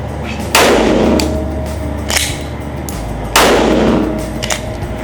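Two loud, sharp reports from a Ruger RXM pistol fired outdoors on the first shots, each a sudden crack with a ringing decay, spaced about three seconds apart.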